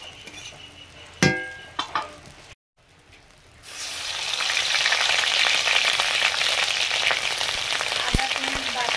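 Dried red chili and bay leaf hitting hot oil, a few sharp clanks of utensils first, then a brief pause and a loud, steady sizzle that keeps going close by.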